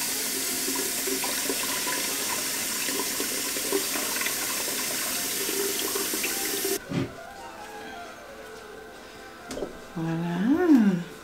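Cold water runs from a tap into a sink as a steady rush, then cuts off abruptly. A few drips and soft handling noises follow, with a brief humming voice near the end.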